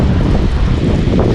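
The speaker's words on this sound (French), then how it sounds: "il y a trop de vent." Strong seaside wind buffets the microphone during surfcasting, a loud, continuous low roar with no let-up.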